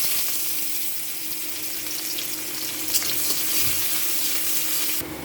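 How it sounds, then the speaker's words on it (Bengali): Chopped onion frying in oil for a chicken filling, giving a steady, loud, hissing sizzle throughout with a few faint clinks and no voices. "এখন আমি পেঁয়াজ কুচিটা দিব।"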